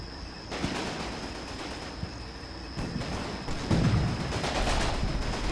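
Fire support in the Combat Mission video game, set in Berlin 1945, loud bursts of gunfire and distant battle noise with sharp cracks and rumbles over a constant steady hum.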